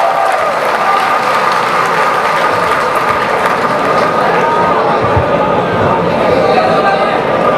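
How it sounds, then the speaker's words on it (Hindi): Dense, continuous clapping from a poetry festival audience in Pakistan, loud and sustained throughout with a steady texture and a voice faintly underneath. "सबकी भरपूर तालियों में अम्मार इकबाल।"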